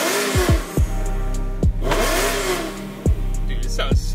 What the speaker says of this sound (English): Let's go ahead and give it a few revs.